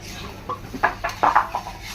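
Metal clinks of stirring a cooking pot and setting a lid on it at an outdoor Christmas picnic, several short scattered knocks and scrapes, close by and moderately loud.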